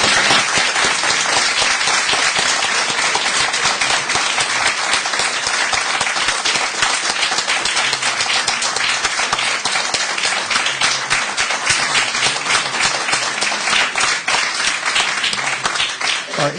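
Loud, sustained applause from a debate audience on human rights in post-apartheid South Africa, dense steady clapping filling the whole stretch without letting up.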